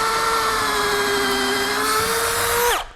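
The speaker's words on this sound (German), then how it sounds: "dann hier bohren" A cordless drill fitted with a drill bit in place of a screwdriver bit whines steadily at high speed, close and alone, then winds down abruptly as the trigger is released.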